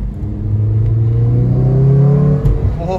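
A 2008 Honda Civic Si Mugen sedan accelerates hard, its engine note climbing steadily and loudly before a quick drop at the shift, heard close from inside the car.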